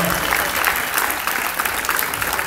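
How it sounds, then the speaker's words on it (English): Sustained audience applause fills the room after a footbag routine in the finals of the 2012 World Footbag Championships, a dense, steady wash of clapping with no voices over it. "Please give a big round of applause for them."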